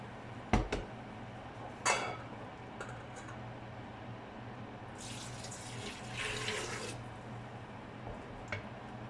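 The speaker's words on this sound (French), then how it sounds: "je vais ajouter de l'eau." Tap water running into a pan to thin a shrimp and green vegetable noodle sauce, a steady pouring rush building in the middle after a few sharp clinks of kitchenware, moderately close.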